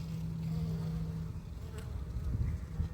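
Honey bees hum in an open hive during an inspection, a close, steady buzzing drone with a few louder individual passes rising and falling over the colony's murmur.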